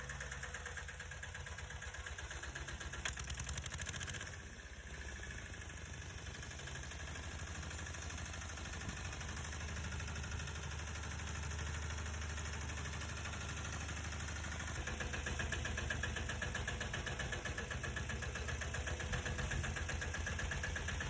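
A tractor engine in rural Kathiawad rumbles steadily and close at a constant idle for the whole stretch.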